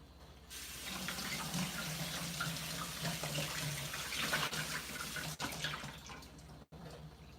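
Raw lamb liver rinsed under a running kitchen tap: a steady, close stream of water splashing into the sink, with small shifts and clatters as the liver is moved under the flow, and no talking.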